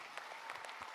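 Audience clapping at a business leadership talk, a dense steady patter of many hands filling the whole second at moderate distance.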